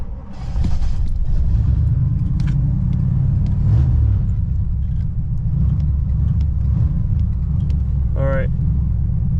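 A 1967 Pontiac Grand Prix convertible engine idles and rumbles steadily at close range as the car is driven in reverse, a low continuous drone with a brief voice and a short squeal near the end.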